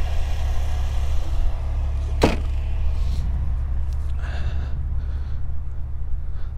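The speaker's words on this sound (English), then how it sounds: "H6 Porsche engine. Idles very smooth. Sounds great." A 2000 Porsche 911 Carrera with its flat-six engine idles smoothly and steadily close by, a low continuous rumble throughout with a brief sharp click partway through.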